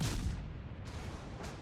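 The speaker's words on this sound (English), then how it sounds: "I'm going to try to shoot AP against him" A warship's guns fire armour-piercing shells in World of Warships: Legends, heard as deep booming blasts: one at the start, then two more sharp reports spaced apart, moderately loud with rumbling decay.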